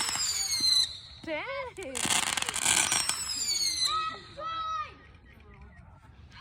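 A Fourth of July fireworks show of 156 shots, with loud whistling rockets that rise and wail, then a dense crackling burst, while a voice exclaims briefly.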